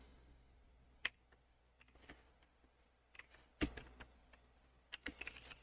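Sparse keystrokes on a computer keyboard while entering JavaScript code, a handful of soft, close clicks scattered irregularly with quiet pauses between them and no talking.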